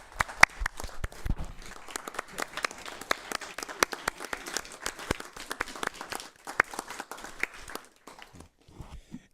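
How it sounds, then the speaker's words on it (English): Scattered applause at a board meeting, a small group clapping with sharp, distinct individual claps over about nine seconds, sparse and tapering off toward the end, with some shuffling noise. "I think we should give her a round of applause"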